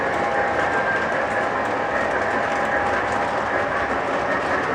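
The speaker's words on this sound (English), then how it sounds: "it's really nice to now be able to run two trains at once" O scale model trains, including a Lionel Legacy Southern Pacific 442, run on a layout with a steady, close rolling rumble and faint clicking of wheels over track joints, plus a thin whine, continuous and without talking.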